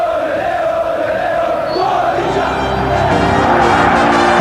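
A huge football stadium crowd roars before the first Club World Championship final in Brazil in 2000, a dense, loud sustained swell of voices with occasional whoops rising toward the end.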